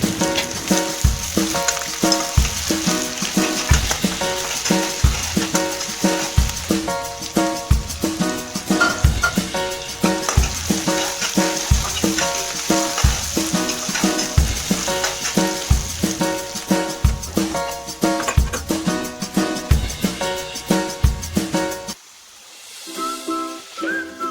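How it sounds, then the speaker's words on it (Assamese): Onions sizzle steadily in hot oil in a wok, a continuous frying hiss with a pulsing rhythm that stops abruptly near the end. "তেলখিনি পকাৰ লগে লগে পিঁয়াজ দি দিছোঁ পিঁয়াজখিনি এতিয়া ভাজি ল'ম"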